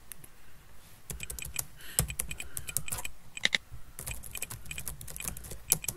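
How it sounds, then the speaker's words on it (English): Fingers tap quickly on a computer keyboard, a close, dense run of crisp clicks in irregular bursts with brief pauses, no voices. "Just typing."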